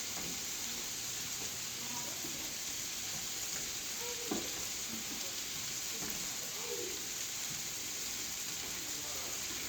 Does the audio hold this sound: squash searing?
yes